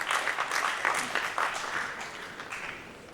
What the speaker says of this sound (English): Please give a big round of applause to Mr. Ooi Ming Loong